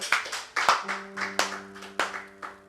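A congregation at a French-language church service claps, a small group's rhythmic, fairly quiet handclaps repeating at a steady pace, with faint sustained tones behind.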